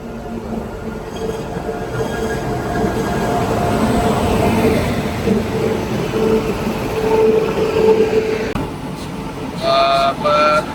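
An Ernakulam–Okha train rumbles and clatters steadily past at close range on the Konkan Railway, with metallic rail noise and a squeal near the end.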